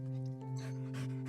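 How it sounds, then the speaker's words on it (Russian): A small dog in a video game eagerly gobbles a treat of bread and sausage, with quick panting and snuffling bursts over a steady tonal music bed. "Собачонка накинулась на лакомство."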